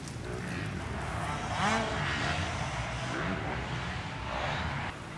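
Motocross motorbike engines drone and rev nearby in a forest, a steady buzzing roar that swells briefly before dropping off at the end.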